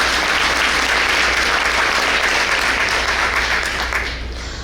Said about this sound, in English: If you would all wave at Chris and give him a round of applause.